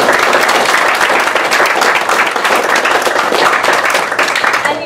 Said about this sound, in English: Can we please give our panelists a round of applause?